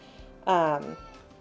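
A single loud, drawn-out cat meow cuts in briefly, standing out against quiet background noise.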